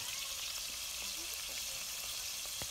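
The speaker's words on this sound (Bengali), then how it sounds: "এর সাথে আমি এখন আদা রসুন পেস্টগুলো দিয়ে দিচ্ছি।" Prawns frying in hot oil as ginger-garlic paste goes into the pan for a taro root and prawn curry, giving a steady, even sizzle with a few faint ticks and pops throughout.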